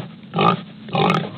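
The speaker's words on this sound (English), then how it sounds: "I've never heard a pig with such a deep oink" A pig gives two deep, low oinking grunts, close and fairly loud, separated by a short pause.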